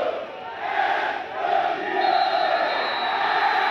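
São Paulo football supporters chanting together in the away section of São Januário stadium near the end of a 2008 match against Vasco, a dense, steady roar of many voices filling the whole stretch.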